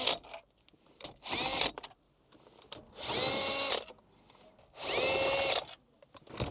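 A power tool removes 10mm bolts from the dash of a Lexus ES, close by in three separate whirring bursts of about a second each, with short quiet gaps and faint handling noises between them.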